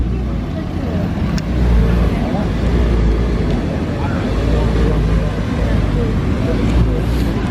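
A Lamborghini V10 at a Halloween car meet, its loud engine roar and rumble filling the scene steadily, mixed with crowd and traffic noise outdoors.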